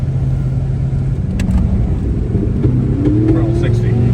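A Chevrolet Trailblazer truck with a 5.3 LS engine revs hard in sand, a loud, steady roar with rising pitch toward the end, while people shout over it.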